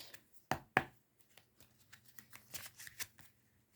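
Oracle cards being shuffled by hand: a couple of sharp slaps followed by a quick run of soft riffling and flicking, quiet and close, with no talking.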